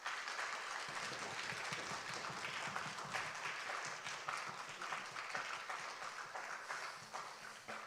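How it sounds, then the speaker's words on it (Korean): A church congregation in Suwon gives sustained, dense applause of welcome for a preacher's first sermon, an even roomful of clapping that is fairly quiet and continuous throughout, with no voices over it. "우리 다 같이 환영하며 힘차게 박수하겠습니다"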